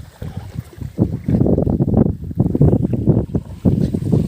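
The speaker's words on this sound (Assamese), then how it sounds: "মেচিন নাও আহোঁতে আহি আছে" A motorboat approaching on a river: a continuous low engine rumble that gets louder, mixed with strong wind buffeting the microphone, with no voices.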